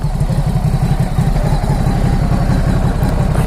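A Ducati Supersport S motorcycle engine idles steadily and loudly up close, a continuous low throbbing rumble with a fast even pulse that holds throughout without talk.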